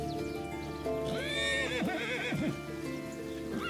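A horse lets out a loud, close whinny with wavering rising and falling pitch, heard over a steady background of music or ambience.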